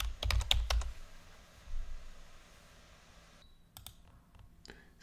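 Computer keyboard keys tapped in quick bursts with a few sharp mouse-like clicks, close and clear over a steady background hiss, with no voices.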